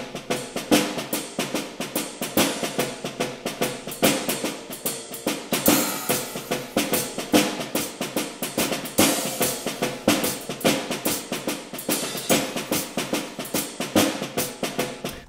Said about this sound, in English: So that's basically just some hi-hats and marching snares to give that that shuffle rhythm to this cue.